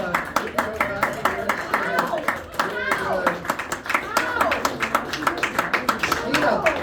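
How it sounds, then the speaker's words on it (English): A theater audience at a mentalism magic show claps steadily for a volunteer named Emma, with sharp, evenly spaced claps close by and a loose murmur of voices underneath. "How about a big round of applause for Emma?"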